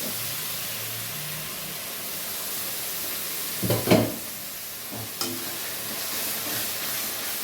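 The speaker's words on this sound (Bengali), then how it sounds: "এবার মশলাটা আমি 3 থেকে 4 মিনিট ভালো করে কষিয়ে নেব।" Spice masala cooked down in a pan with a little water for muri ghonto, giving a steady hiss of sizzling broken by a couple of brief spoon scrapes near the middle, close and even in level, without speech.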